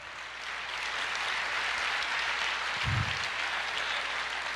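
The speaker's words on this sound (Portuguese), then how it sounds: "aplauda o Senhor" Church congregation applauding during a sermon, a steady dense wash of clapping that holds for the whole stretch with a brief low thump near the middle.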